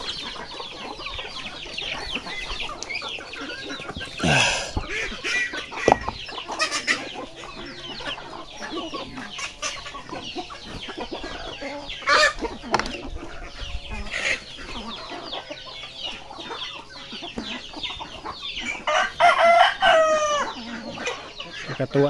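Chickens cluck steadily throughout, with a rooster crowing a few times, loudest near the end, amid a busy outdoor farmyard background.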